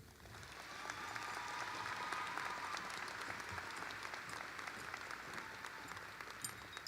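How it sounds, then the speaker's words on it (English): An audience at a high school graduation ceremony breaks into sustained applause that swells after a second and holds steady as a dense, even wash of clapping. "ladies and gentlemen, if you could give a round of applause for our keynote speaker, Chloe Cardinelli."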